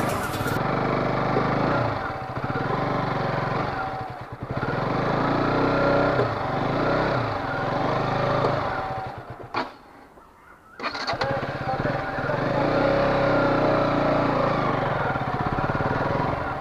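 A new KTM RC 125 motorcycle engine runs loudly with repeated throttle blips and revving, dropping briefly to near quiet before roaring again; a voice is faintly mixed in.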